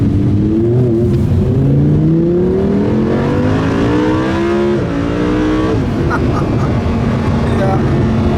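Lamborghini Huracán LP610-4 engine revving and pulling up through several gears on a city roundabout drive, loud and close with rising pitch sweeps, under a steady rush of cabin and road noise.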